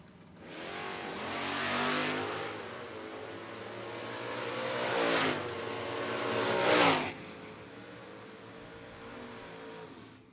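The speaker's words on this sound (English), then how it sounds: "Hines got the 59 F100, 620 dial-in coming in out of Mays Landing, New Jersey." A 2010 Camaro and a 1959 Ford F100 at a footbrake drag race: loud engines roar as they accelerate and rev hard through several surges, peaking sharply near the end before dropping to a steady drone, with no talking.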